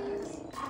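Puppies growl and tussle while playing tug of war and keep away with a toy, a short burst of close, steady low growling with no talk over it.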